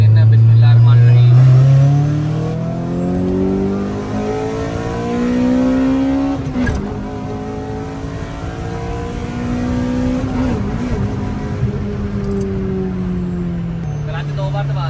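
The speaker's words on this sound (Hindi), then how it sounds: "दूसरे गियर से गाड़ी उठा के चेक करते हैं" A Honda Civic X race car accelerates hard from second gear, its loud close engine note climbing steadily in pitch with brief dips at shifts, sustained over the whole run.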